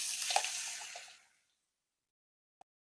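Onion, ginger and garlic paste hits hot oil and butter with a loud, crackling sizzle that fades within about a second, followed by silence and one small clink.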